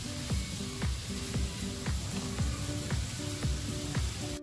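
Pre-fried egg being stirred into a hot sizzling pan for restaurant-style chicken egg fried rice, a constant close sizzle broken by regular scraping stir strokes about twice a second.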